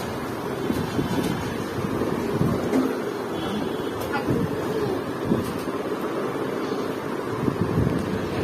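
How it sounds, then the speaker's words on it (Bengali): Wind blows outdoors as rain approaches, a steady broadband rush with gusty swells and rumbling microphone buffeting that lasts the whole stretch. "এই যে আছে বাতাসের অবস্থা"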